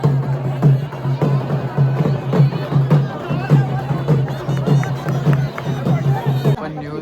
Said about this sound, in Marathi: माझ्या मागे गर्दी बघा किती आहे